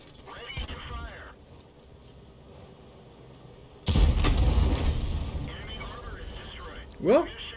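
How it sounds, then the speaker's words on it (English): In a video game tank battle, a Sturmpanzer's gun fires one loud, heavy shot midway through, followed by a fainter impact, while a commentator talks almost throughout. "And there's another shot from the Sturmpanzer."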